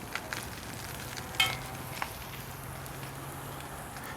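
Empanadas fry in hot oil with a continuous soft sizzle and crackle, broken by a couple of brief sharper pops, and there is no talking.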